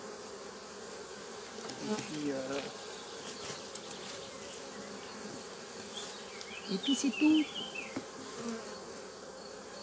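Honey bees buzz around an open hive, a steady low drone with a few louder passes near the microphone, while someone says a few words quietly.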